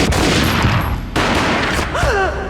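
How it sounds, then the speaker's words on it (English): Gunfire rings out in the PC game Max Payne, a loud burst of booming shots with a sharp break midway, followed by a brief tonal whine near the end. "A gunshot boomed and she fell down in slow motion"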